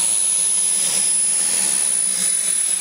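A model jet fighter's turbine roars at an airfield during an air show, a loud and steady high-pitched hiss and whine that fills the whole stretch with no voices.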